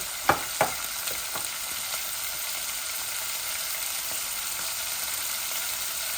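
Onion and garlic frying in a pan with spices, a steady bright sizzle running throughout with a couple of sharp clinks of a utensil near the start, no talking.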